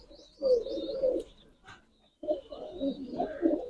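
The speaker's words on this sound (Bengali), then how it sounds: "এটা গিরিবাস কবুতর" Giribaz pigeons on a large Rajshahi pigeon farm coo in two throaty, rolling bursts separated by a short lull, close and fairly soft.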